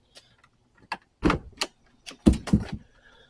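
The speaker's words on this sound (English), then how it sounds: "Let me open the door." A Lotus Europa door in a heavily disassembled project car is handled with a series of sharp clicks and clunks, a few isolated knocks followed by a cluster of louder latch and hinge noises, close and fairly quiet.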